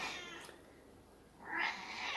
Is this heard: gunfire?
no